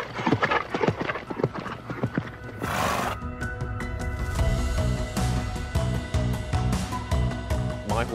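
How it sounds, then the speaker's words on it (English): Horses at Pinfold Stables clip-clop on hard ground in quick, uneven hoofbeats. A loud neigh or snort follows, then the animals keep shuffling and stamping nearby. "I'm based with my team of horses"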